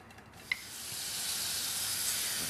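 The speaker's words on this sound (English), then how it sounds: "Add the onion and mushrooms and sauté them" Onion and mushrooms sizzle in hot olive oil in a pan, a steady hiss that starts with a small clack and then swells and holds, close and even.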